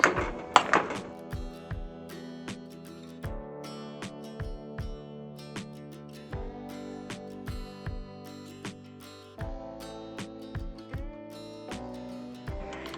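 Potatoes for a double-layer shepherd's pie are being mashed, with a steady series of soft thunks from the masher in the bowl, repeated in small clusters under background music, no talking.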